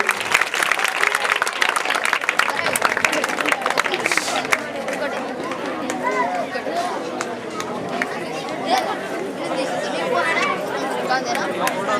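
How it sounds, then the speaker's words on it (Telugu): Audience at a retirement function clapping loudly and steadily, a dense continuous applause from a large crowd mixed with chatter and voices throughout. "ఒకసారి కరతాళ ధ్వనులు"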